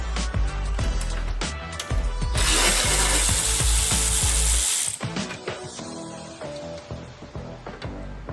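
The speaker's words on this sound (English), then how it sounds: "Carefully remove all the hardware one by one until the metal plates is removed." Hand ratchet clicking repeatedly as hardware is removed from a 2015 Lamborghini Huracan V10 during an engine swap, with a steady close-up burst of mechanical clatter in the middle and no talk.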